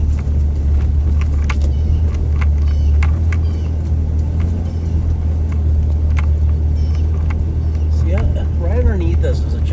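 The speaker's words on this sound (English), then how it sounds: "Let's just drive up here." A vehicle drives up a hill on farmland with a steady, loud low engine rumble and road noise throughout, while someone talks over it.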